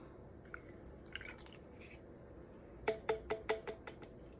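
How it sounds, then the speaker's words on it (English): Water goes into a medicine bottle to make up a pediatric suspension: a few soft taps come first, then a quick close run of five or six bright, splashy drips into the liquid. "now we're going to add the water to the bottle"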